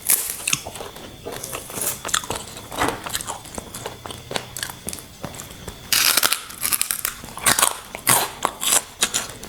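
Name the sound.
eating papaya salad with rice noodles and crispy pork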